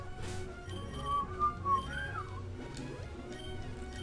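A person whistles a short tune, a few thin sliding notes in the middle of the stretch over faint game music in the background.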